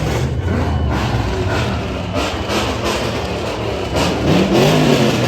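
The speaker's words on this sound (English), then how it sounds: "As I can hear them revving over there." Cars at a late-night car meet, engines rumbling and revving in bursts nearby, with steady loud exhaust noise and a rising rev near the end, no clear talk.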